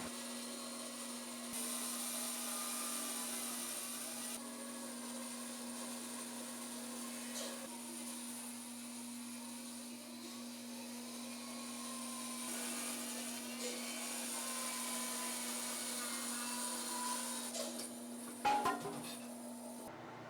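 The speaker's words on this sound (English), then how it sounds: "Let me go ahead and run these over to the bandsaw," A bandsaw hums steadily while wood boards are fed through it and cut down. The motor drone is constant and fairly quiet, and a few knocks from handling the boards come near the end.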